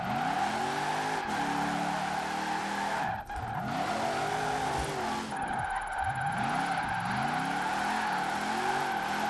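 A drift van in Forza Horizon 4 revs hard while its tires squeal through long skids, the engine pitch sweeping up and down repeatedly with a brief dip partway through.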